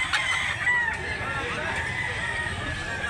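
A pusing black-leg bull stag rooster crows at a Cebu poultry sale, a drawn-out call over steady background babble and people talking nearby.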